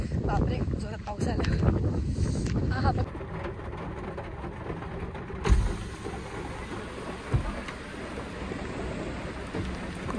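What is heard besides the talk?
heavy rain heard from inside a car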